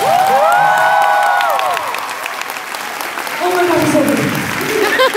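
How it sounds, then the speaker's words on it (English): Audience applause after a lecture at UCR, loud clapping filling the room with voices and cheering mixed in, dipping slightly midway before swelling again. "Could you get another round of applause?"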